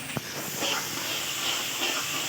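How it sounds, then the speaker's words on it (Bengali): Onions and spices frying in a pan for a lobster-head (golda chingri ghilu) dish, giving a steady, fairly loud hiss and sizzle that runs without a break, with one brief knock near the start. "নেড়ে চেড়ে পেঁয়াজটাকে একটু ভেজে নিতে হবে মশলাটা একটু ভালো করে ভেজে"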